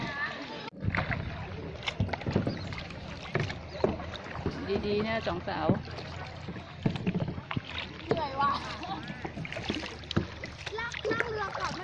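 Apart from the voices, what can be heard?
paddling a kayak on the sea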